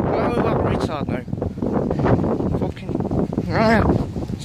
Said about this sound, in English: Fuck off, wind.